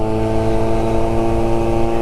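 A 1983 Honda Motocompo scooter's small engine runs at speed, loud and steady with a sustained droning whine and strong harmonic tone, close and continuous with no talk.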